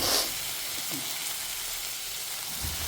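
Potatoes drop into a hot pan of oil and sizzle with a bright hiss at first, then settle into a steady, gentle frying crackle.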